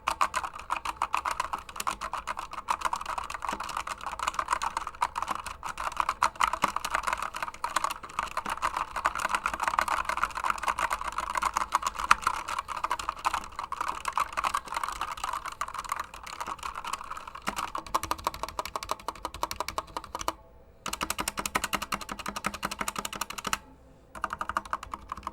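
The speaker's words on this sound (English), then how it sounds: "A typing test." Fast, continuous clacking from a modded mechanical keyboard under steady typing runs close and crisp for about twenty-five seconds. There are only two brief pauses near the end.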